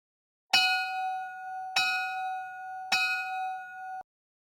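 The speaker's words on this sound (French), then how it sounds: "au son de la cloche" Three clear bell dings struck about a second apart, each bright metallic tone ringing and sustaining until the next strike, the last cut off abruptly.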